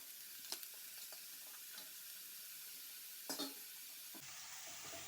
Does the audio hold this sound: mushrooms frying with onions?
yes